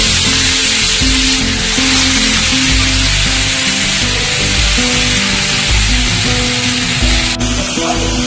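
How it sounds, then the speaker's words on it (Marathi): Washed, chopped pointed gourd (parwal) is added to a hot pan, setting off a loud, continuous hissing sizzle with a steady hum underneath for several seconds and no voices. "आता मी याच्यामध्ये ते आपले चिरलेले परवळ धुवून टाकून देते"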